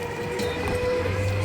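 An amusement ride train car rolls past on the Wildwood, New Jersey boardwalk, giving a steady, moderately loud rumble with a sustained tonal hum and faint clatter throughout, no talk.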